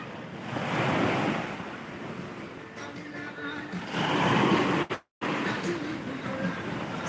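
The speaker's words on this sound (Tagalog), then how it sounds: "Dito muna tayo sa tabing dagat." Ocean waves at a beach wash in as a steady broadband surf roar, fairly close and continuous, with wind buffeting the microphone and a brief dropout near the end.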